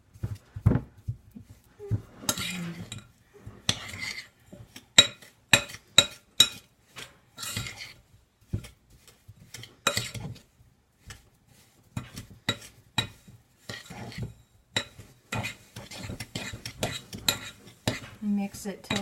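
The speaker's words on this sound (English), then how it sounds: "Once you have done that, you stir this up." A utensil stirring cookie dough of butter and sugar in a bowl, with close irregular clinks and scrapes against the bowl repeating throughout.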